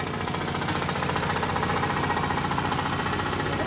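A motorcycle engine run with its oil fully drained clatters loudly and continuously, with a harsh, rapid metallic knocking rattle held steady at close range and no talking.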